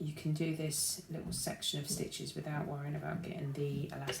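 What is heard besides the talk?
None of the usual background noises is heard.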